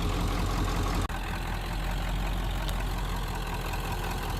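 A 1996 Ford F250 with a 7.3L Power Stroke turbodiesel V8 runs with a steady low rumble, fairly close and continuous, broken by one brief click near the start.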